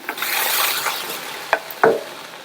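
Eggplant pieces sauté in a pan with a soft, steady sizzle and light stirring, broken by two sharp clinks of a spatula against the pan near the end.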